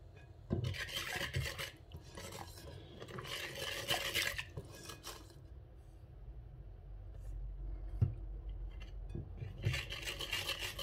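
Brioche batter being mixed by hand with a whisk in a bowl as sifted flour goes in, bursts of rapid rasping whisk strokes against the bowl separated by quieter pauses and a single knock.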